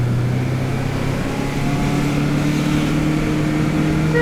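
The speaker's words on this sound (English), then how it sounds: "put it into first gear and then just floor it" An automatic car floored in first gear up a steep hill gives a loud, strained engine drone that holds at high revs with a slowly rising pitch, steady and close throughout.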